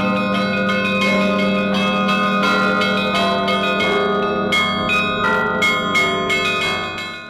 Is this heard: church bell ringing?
yes